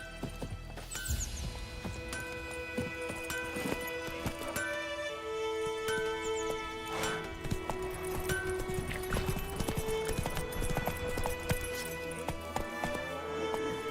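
Roach the horse gallops in The Witcher 3: Wild Hunt, a steady run of hoofbeats under a game music score with tonal bells and strings.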